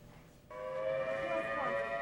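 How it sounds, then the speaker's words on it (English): Air raid sirens wail across Kuwait City during the first day of the Iraq War in 2003, a sustained tonal siren cutting in abruptly and holding steady, distant and faint. "Repeatedly throughout the day, air raid sirens wailed across Kuwait City."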